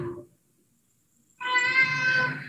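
A house cat meows once, close and clear, in a drawn-out, loud call after a moment of near silence, heard during a home stretching session.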